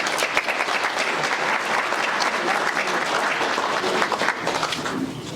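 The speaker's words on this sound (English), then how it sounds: "Is that clap for him or me?" Audience applause fills a banquet room for the Lions, a dense steady clapping from many hands that holds for several seconds before easing slightly at the end.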